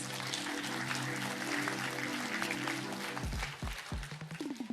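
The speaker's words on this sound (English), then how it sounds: "Let's give them another round of applause." Crowd applause at a cohort launching ceremony, with a sustained tone running underneath, ending in a few low thuds as the clapping carries on.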